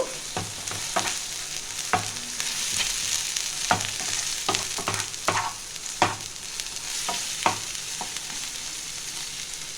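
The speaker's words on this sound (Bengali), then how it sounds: "হাফ ইঞ্চির মতো আদা, 2টো কাঁচা লঙ্কা, এইটা একটু হালকা করে আমি ভাজবো।" Ginger, garlic and green chillies fry lightly in a pan with a continuous sizzle, punctuated by frequent sharp scrapes and taps of a stirring spoon, close and fairly loud, with no speech.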